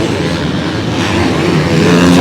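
Race cars roar past on a French autocross track at Villars-sous-Écot, a loud, continuous engine drone that swells and builds as they come close, with no talking.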